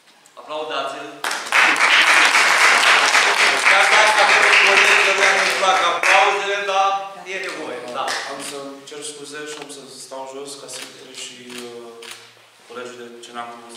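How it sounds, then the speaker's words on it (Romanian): Audience applause at a poetry book launch, a dense burst of clapping rising quickly and holding loud for several seconds before thinning, with speech continuing over the fading claps. "Aplaudați-l!"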